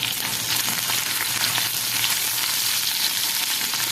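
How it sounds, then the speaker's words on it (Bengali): Pieces frying in hot oil in a pan, a steady dense sizzle with crackling that holds evenly for the whole stretch, close and fairly loud, with no voices. "এই যে ভাজা হচ্ছে"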